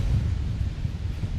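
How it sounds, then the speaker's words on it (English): Steady outdoor wind at a disc golf course in Delta, Colorado, a continuous low rumbling roar buffeting the microphone for the whole moment, loud and unbroken with no voices. "Not with this wind."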